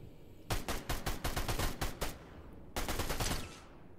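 Rapid bursts of automatic gunfire in Fortnite, one long volley of sharp shots, a brief pause, then a second shorter burst.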